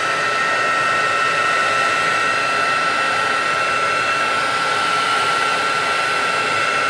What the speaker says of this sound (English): I'm going to use my little heat tool here, and I'm going to dry this.